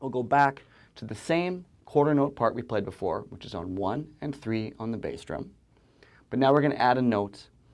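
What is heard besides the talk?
No everyday noise stands out behind the speech.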